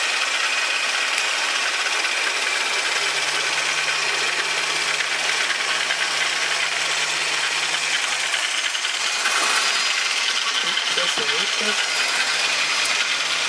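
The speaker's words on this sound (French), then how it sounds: "L'aspirateur." A vacuum cleaner runs continuously with a loud, steady broadband roar and high whine, with a few faint knocks near the end.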